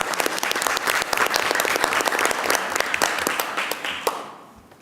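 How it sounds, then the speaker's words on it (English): Applause at a school board of education meeting honoring teachers and staff, a brisk dense round of clapping from the room with individual claps audible, fading out near the end. "Let's give them a round of applause."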